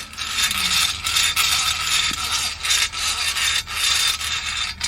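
An HME truck hitch game hoist has its wire line pulled through to take up slack, giving a steady, close rasping rub with faint ratcheting clicks that runs unbroken for about five seconds, with no voices.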